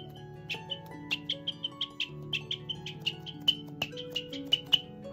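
A manual bird call imitates a sparrow with a run of short, sharp chirps repeated in an uneven rhythm, clear and close over a faint background hum.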